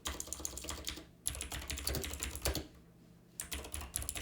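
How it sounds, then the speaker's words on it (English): Computer keyboard typing comes in quick uneven bursts of crisp key clicks, close and quiet, broken by two short pauses. "A little bit of keyboard typing"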